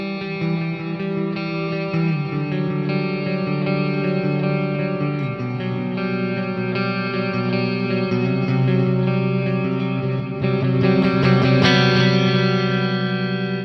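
A clean electric guitar tone played through the WaveMind Tone Suite Distant amp sim with added reverb: sustained, ringing chords that keep going without a break, alone and with no talking.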